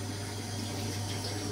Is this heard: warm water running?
yes